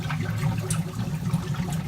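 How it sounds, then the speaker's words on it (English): Steady rushing and splashing of water driven by a pump emptying an aquarium sump, continuous and fairly close with no voices. "So I'll just turn the pump on over here. Blowing all the water out of here."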